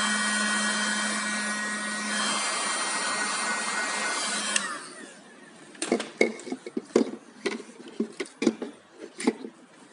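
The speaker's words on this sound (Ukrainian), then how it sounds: "Греем феном кончик шланга." A hair dryer whirs steadily with a high whine for several seconds while heating the end of a car hose, then cuts off, followed by clattering and tapping of handled objects nearby.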